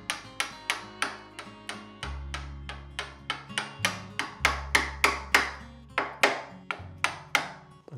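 A chisel is tapped along a dovetail cut in wood, about two dozen crisp, close mallet-like knocks in a steady, slightly uneven rhythm with brief pauses, heard alone and fairly quiet.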